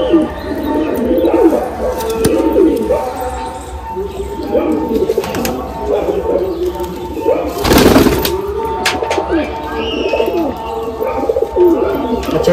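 Close Madrasi pigeons keep up a continuous low cooing chorus, broken by a sharp burst of flapping or handling noise midway, with voices talking now and then over the birds.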